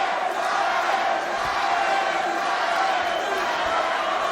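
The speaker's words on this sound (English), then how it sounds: "Crowd cheering for Trevin Giles" Fight crowd cheering for Trevin Giles at a Ryan Spann bout, a steady loud roar of massed voices sustained throughout.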